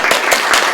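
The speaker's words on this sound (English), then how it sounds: "So give yourself a round of applause." A brief burst of audience clapping for student speech contestants at a YES Miaoli judging session, close and loud with a few distinct accented claps.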